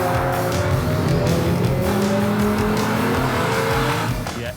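Race cars in the video game GTA roar past together with a dense, steady engine drone and bursts of tire squeal, loud and continuous before easing off at the end.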